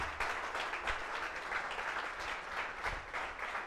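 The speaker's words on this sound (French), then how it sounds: "Encore plus d'applaudissements pour l'adjudant-chef Kambou." Sustained audience applause for a chief warrant officer after his talk at a business event, a thick, even wash of clapping held at steady volume throughout.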